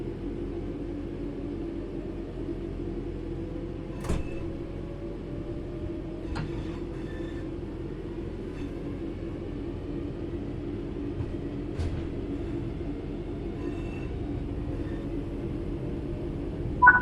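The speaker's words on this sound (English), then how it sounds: "Let's get the train moving and see it all working." A simulated train gets under way, a low steady rolling rumble that holds throughout, with a few faint clicks and thin tonal sweeps over it.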